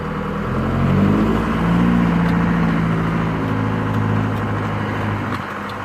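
A Ford Transit van's engine revs loudly through a loud aftermarket exhaust on a neighborhood street, a steady growling drone that swells and eases over several seconds with a few rising pulls.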